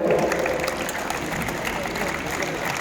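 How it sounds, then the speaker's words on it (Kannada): Children clap together in a group, a dense steady patter of many small hands that stays fairly even and close, with a faint murmur of voices under it. "ಯಾಕೋ ಚಪ್ಪಾಳೆ ನಿಧಾನಕ್ಕೆ ಹಂಗೆ ಸುಮ್ಮನಾಗ್ತಾ ಇದೆ"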